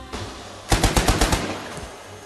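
Gunfire in the Achtung Cthulhu Tactics video game, a quick burst of about six sharp, loud automatic shots in an even rhythm, then a fading tail.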